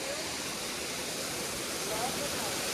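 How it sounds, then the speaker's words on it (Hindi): A secret waterfall near Rishikesh gives off a steady rushing roar of falling water, even and fairly close, filling the whole short stretch with broadband noise. "तो गाइस आप देख सकते हैं ये है सीक्रेट वाटरफॉल।"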